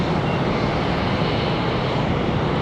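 An American Airlines jet departing Charlotte Douglas International Airport for West Palm Beach gives off a steady, broad roar of engine noise, constant and moderately distant with no voices over it.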